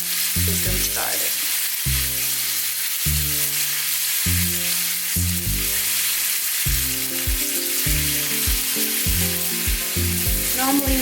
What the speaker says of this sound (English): we're going to put our plantain in our frying pan. Get them started.